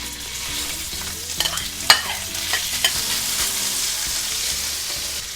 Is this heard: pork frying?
yes